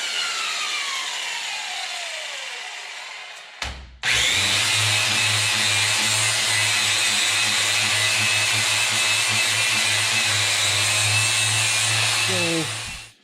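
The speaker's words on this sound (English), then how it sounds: "Let's start out with your wheel on the surface, because if you start like that, as soon as you touch, you're going to cut." A polishing wheel grinds a vintage camp axe head: after a brief quieter stretch, a loud, steady, close-up motor whine with a gritty grinding hiss holds for about nine seconds before cutting off.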